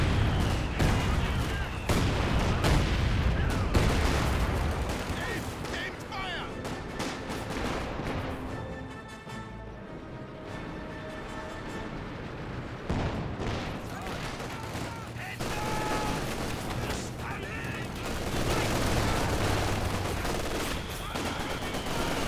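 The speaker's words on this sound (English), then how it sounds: "I guess it's the heavy mortar barrage from the artillery officer." Heavy mortar barrage in the World War II strategy game Company of Heroes 2: dense, continuous rolling thunder of shell impacts and distant booms, loud and sustained with brief lulls, mixed with scattered gunfire.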